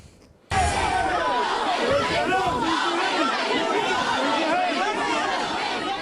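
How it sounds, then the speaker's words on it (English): A large crowd protests conservative writer Ben Shapiro's speech at California State University's Los Angeles campus, a loud, continuous roar of overlapping shouting and chatter that bursts in abruptly and stays dense for several seconds. "That was the crowd that greeted conservative writer Ben Shapiro as he was attempting to give a speech at the Los Angeles campus of California State University"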